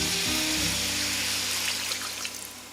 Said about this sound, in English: I just want this to get a nice fry for about a minute.